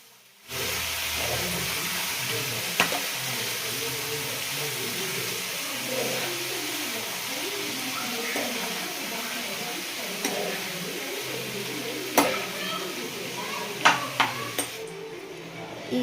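Boiled raw papaya stirred into a sizzling tempering in a pan: a steady, close frying hiss runs throughout with soft scraping stir strokes and a few brief clinks near the end.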